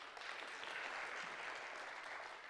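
A small group claps for a child, soft and brief, steady light applause at a distance.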